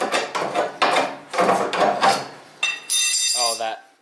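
A big hand file rasps against metal on a B18-swapped Geo Metro, several quick rhythmic back-and-forth strokes, loud and close, followed by a couple of short higher scraping sounds.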